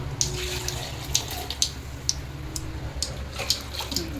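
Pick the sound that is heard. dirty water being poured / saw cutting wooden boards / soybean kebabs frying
dirty water being poured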